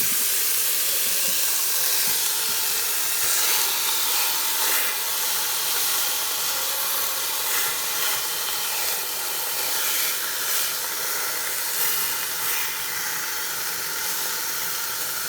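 Beef dropped into a hot Instant Pot on the sauté setting, giving a loud, steady hiss of searing that runs the whole time with faint crackles and no talk.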